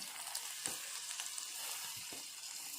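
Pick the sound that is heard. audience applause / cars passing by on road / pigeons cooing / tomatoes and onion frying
tomatoes and onion frying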